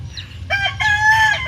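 A loud, close rooster crow rings out in two rising bursts, clear and unaccompanied by speech.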